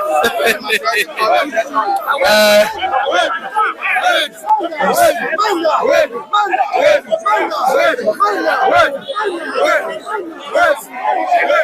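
A very large crowd chatters and calls out at a capitol building as a House of Representatives member arrives, a dense, continuous babble of many voices close around, with one brief shout standing out.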